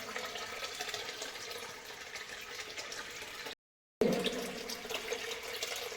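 Steady water pours from the spout of a Nandi bull statue at the Jalanatheeswarar temple in Thakkolam, a continuous splashing flow heard up close, briefly cut off near the middle.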